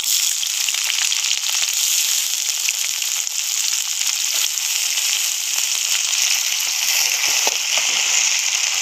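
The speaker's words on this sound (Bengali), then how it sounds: "এবার দিয়ে দেবো পেঁয়াজ কুচি।" Chopped onions dropped into hot oil tempered with bay leaves and black cumin, a bright continuous sizzle and crackle close up, steady throughout with no talking.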